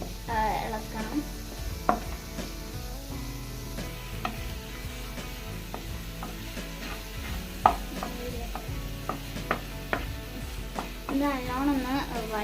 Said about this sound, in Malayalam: നല്ലോണം ഇളക്കണം.